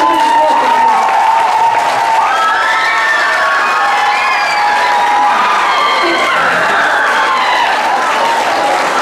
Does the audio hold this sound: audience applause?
yes